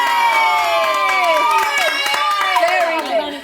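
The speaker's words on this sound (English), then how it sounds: "Give them a cheer." A group of young children cheer and shout together with some clapping, a loud, close burst of excited voices lasting a few seconds.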